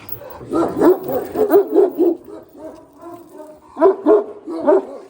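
A Kangal Anatolian shepherd dog barks in two bursts of rapid, deep barks, close and loud with a short pause between them.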